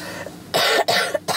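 A person coughs twice in quick succession, loud and close, each a harsh burst, followed by the start of a third.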